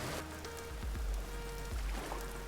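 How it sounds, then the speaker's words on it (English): Rain in the survival game Vintage Story falls as a steady hiss of drops on surfaces, with low thuds and a faint tonal hum underneath, no speech. "Man, that rain's really loud."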